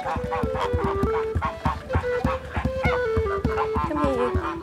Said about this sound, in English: Time for Ruth and Chloe to take out the geese.